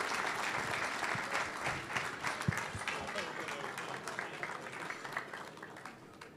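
A concert audience in Antalya applauds continuously, a dense, fairly distant wash of clapping hands that holds steady and slowly fades, with no voices over it.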